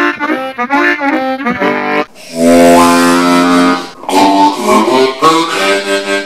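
A C harmonica and then a low C harmonica pitched one octave lower play in turn, giving loud, sustained reedy chords and short phrases with brief pauses between them and no talking.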